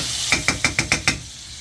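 Minced garlic sizzling in a hot pan under a steady frying hiss, stirred with six evenly spaced scraping strokes that then stop, leaving only the sizzle.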